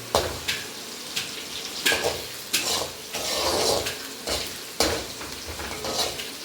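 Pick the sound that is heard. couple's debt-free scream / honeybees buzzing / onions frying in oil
onions frying in oil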